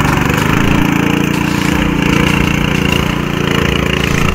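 A powerful power tiller engine runs steadily and loudly throughout, a continuous close mechanical drone with a rough, chugging low rumble and no voices.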